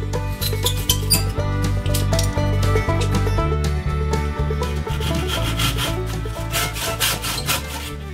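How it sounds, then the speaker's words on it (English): Handsaw cutting short strips of wood for a kayak furler spacer, a steady rhythmic back-and-forth rasp of strokes, close and loud with no talk. "Short strips of wood is cut."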